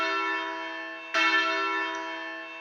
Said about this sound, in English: you actually ring the bell so you get really used to your sound.